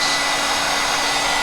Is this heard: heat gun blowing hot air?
yes